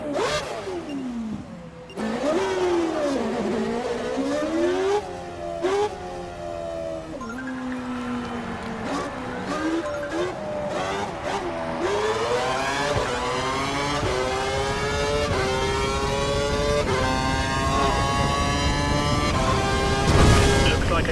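Formula One car in the F1 2012 racing game accelerating hard out of a hairpin, its high-pitched engine whine climbing through rapid gear changes, loud and continuous throughout.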